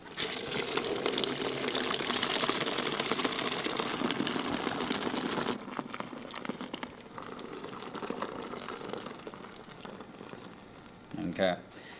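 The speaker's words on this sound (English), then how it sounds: "I'm going to pour the remainder in all at once." Beer poured all at once into a bucket that fills with foam, about seven liters in all: a steady, loud rushing gush that thins out midway and ends with a brief louder splash near the end.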